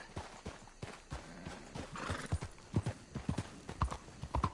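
Horse hooves clip-clop in Red Dead Redemption 2, the irregular thudding steps of more than one horse growing denser and louder toward the end, with a brief whinny-like sound near the middle.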